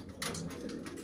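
Soft pigeon cooing in a pigeon loft, a couple of low, burbling coos over a steady background hum.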